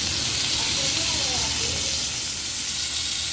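Tomatoes dropped into a pan of roasted onion fry with a loud, steady sizzle and hiss, close up and continuous, with faint speech in the background.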